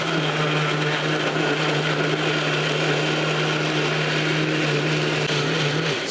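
A kitchen blender whirs steadily while blending banana pudding, a loud, constant motor drone with a whining buzz that holds without a break for several seconds before stopping abruptly at the end.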